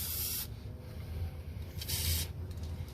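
PB Blaster penetrating oil sprayed onto rusted suspension parts of an Evo X during a coilover install, two distinct close hissing bursts separated by a quieter pause.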